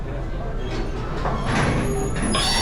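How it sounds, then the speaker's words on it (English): Walt Disney World Railroad train at Magic Kingdom still rolling toward Frontierland, a steady low rumble of wheels and cars with faint rail hiss building slightly toward the end, an announcer's voice talking over it. "The train is still in motion."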